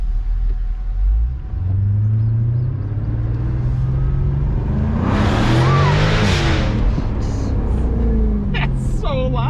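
A 2022 Lexus LC 500 convertible's engine roars loudly and steadily while driving through a tree tunnel with the windows down, rising in pitch toward the end, with a voice speaking over it.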